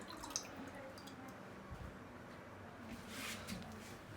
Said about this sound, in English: you want to pour the glaze in at least halfway